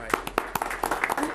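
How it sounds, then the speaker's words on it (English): Brief applause breaks out in a county commission meeting room, scattered clapping lasting about a second, mixed with speech. "I'll give you a hand of applause"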